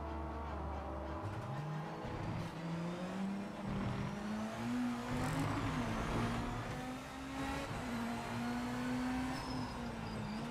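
Race car engine in the Project Motor Racing video game, a steady droning note rising and falling through gear shifts and revs, sustained and fairly loud throughout with no talk over it.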